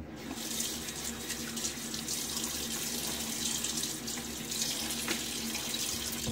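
Tap water runs steadily into a sink, close and continuous, as a face is wetted with cool water before a shave.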